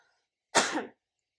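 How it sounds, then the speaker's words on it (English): A single short, close cough, sharp and breathy, in otherwise quiet surroundings. "there's a lot of stuff in the air right now causing me to cough"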